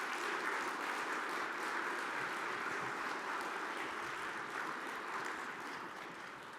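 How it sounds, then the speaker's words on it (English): Audience applause for nominees and award winners at a manufacturing conference, a dense continuous roar of clapping from a large room that stays steady and tapers slightly toward the end, no voices over it. "I want you all to clap it up for all of our nominees and our winners of awards tonight."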